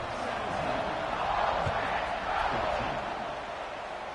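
A college football video game stadium crowd roaring at kickoff, a broad continuous wash of cheering that swells and holds at moderate level, with no voices standing out.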